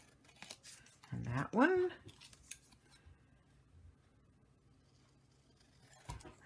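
Scissors snip through paper circles for a layered card in a quick, brief cut, followed by a few softer handling sounds in a quiet room. Someone speaks briefly around the cut.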